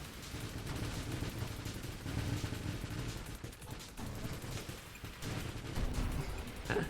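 Missiles fire in rapid succession in the space shooter Nova Drift, a dense, continuous barrage of bursts and blasts that stays loud, with brief dips and surges.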